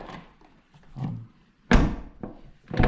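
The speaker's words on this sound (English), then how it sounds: "the sound that the doors make when you close them" A BMW car door shuts with one solid, heavy thunk, preceded by softer handling noises and followed by a shorter knock and another door sound.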